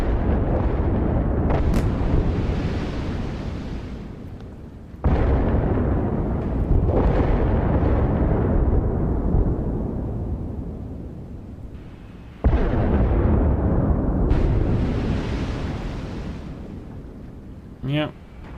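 Heavy booming blasts as a Type 071 Yuzhao amphibious ship attacks AAV7 amphibious vehicles in the DCS World combat simulator: three big broadband explosions a few seconds apart, each with a long rumbling decay, and a brief sharp pop near the end.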